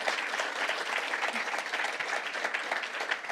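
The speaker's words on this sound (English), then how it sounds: "give them a round of applause" Conference audience at a food waste summit applauds a departing panel, a dense steady clatter of many hands clapping close and loud for a few seconds.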